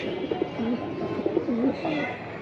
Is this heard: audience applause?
no